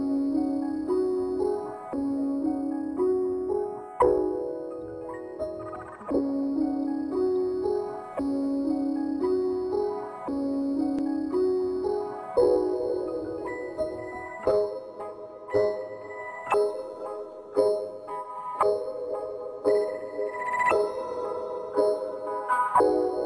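A synth loop from the Output Arcade instrument with MIDI automation plays alone: chiming, bell-like tones in repeating patterns, plus a steady low pulse, with sharper rhythmic hits joining in the second half.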